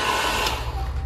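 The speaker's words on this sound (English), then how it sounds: "we've got this little hairdryer, which I'm gonna plug into the inverter. Switch that on." A steady broadband whir of a small hair dryer running continuously off a van's inverter, loud and close, with a low mechanical hum underneath.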